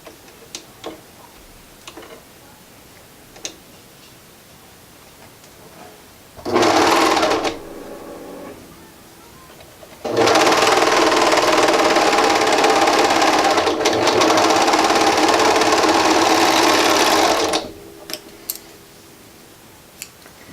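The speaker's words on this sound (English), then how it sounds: "put it right sides together, and you're going to sew just that short side together" A sewing machine stitching a faux fur beanie band runs in a short burst, then in a longer steady whir with a rapid ticking rhythm. Quiet ticks and small handling sounds come between the runs, close by.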